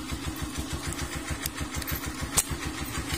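Honda TMX 125 Alpha motorcycle engine after a DIY tune-up, running with a steady, even low putter close by, one brief sharper knock midway, no talking.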